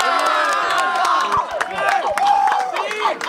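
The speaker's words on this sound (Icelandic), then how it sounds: "Það er bara að klappa fyrir þessu sko." A lively crowd at a school event cheers and shouts, voices overlapping in loud excited yells with scattered claps mixed in.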